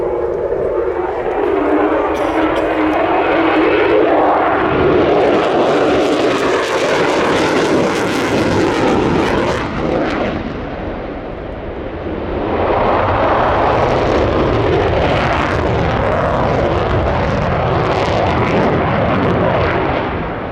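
A British F-35B fighter jet roars past at an air show, a loud sustained engine rumble that swells, dips briefly, and surges again across the whole stretch.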